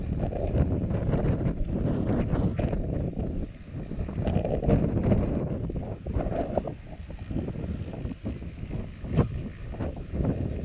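Strong wind blows across a single-family house construction site where the first course of load-bearing walls is being laid, a continuous loud rushing and buffeting with gusts rising and falling throughout.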